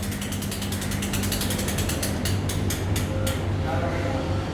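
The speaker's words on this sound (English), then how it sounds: "The umbrella has a hand lever inside and the umbrella is opened using the hand lever." A hand lever inside a metal center-pole garden umbrella is cranked to open the canopy, making a loud, continuous rapid ratcheting click close by, with steady mechanical rumble underneath.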